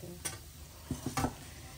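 Pasta sauce of olive oil, chopped onion and garlic cooks in a pan, a quiet sizzle with a few soft scraping stirs near the end.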